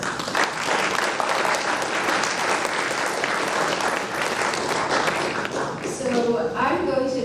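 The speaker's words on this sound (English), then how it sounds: "Please give her a round of applause." Sustained audience applause at a physics lecture, dense steady clapping filling the room for several seconds before tapering off as a voice begins speaking near the end.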